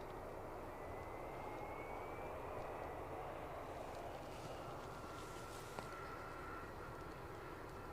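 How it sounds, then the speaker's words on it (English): A British Airways airliner arriving at Edinburgh produces a continuous, fairly distant jet rumble and whine that stays level and unbroken. "We should be able to catch up with our British Airways arrival."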